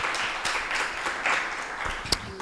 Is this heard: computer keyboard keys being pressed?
no